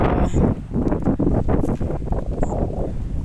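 Strong wind buffets the microphone in a steady low roar with gusting swells, loud and close, over Old Seguya, with no clear voices over it.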